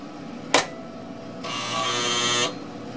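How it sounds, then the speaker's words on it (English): A 1950s-era AM radio transmitter powers up: a sharp click of a switch, then after a second a steady whirring blower hum starts and runs for about a second before dropping off, all fairly close. "Now the blower, air ducts have come up to pressure and the filaments are switched on."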